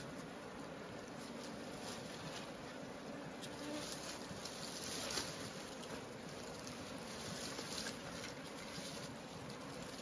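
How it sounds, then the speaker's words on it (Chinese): Bees buzz steadily around a wild honey harvest in the mountains, a dense, continuous drone of many insects at close range with no pauses. "不怕给蜜蜂追的就可以来了"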